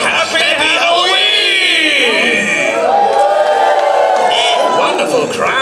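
A theme-park comedy show audience at a Halloween party lets out a long, rising and falling ghostly "ooh" in unison, a loud, sustained crowd voice filling the room and imitating ghosts.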